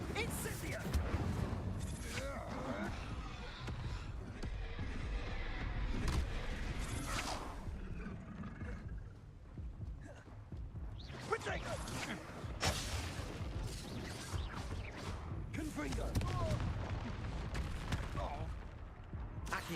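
An Incendio fire spell is cast in Hogwarts Legacy during a busy duel, with whooshing bursts and crackling impacts layered over a constant wash of combat noise that lasts the whole stretch.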